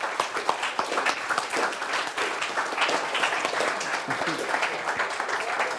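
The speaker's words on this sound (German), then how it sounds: "einmal einen großen Applaus für Alex, Anja, Anton" Audience applause at the final presentation of the Jugend hackt Rhein-Neckar 2023 youth hackathon, a steady dense clapping from a crowd that runs the full length with a voice faintly audible beneath it.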